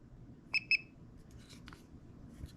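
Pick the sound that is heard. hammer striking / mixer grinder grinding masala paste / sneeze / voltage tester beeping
voltage tester beeping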